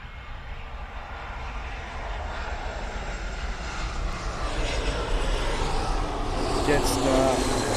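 A Jetstar airliner approaches Gold Coast airport on an early morning arrival, its engine roar building steadily and growing louder as it nears, with a broadband rumble and whine dominating throughout.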